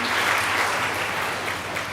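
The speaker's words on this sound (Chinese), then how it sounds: "咱拍手来欢迎因。" A church congregation claps to welcome guests during a service, a steady wash of many hands clapping together at moderate loudness for a short stretch.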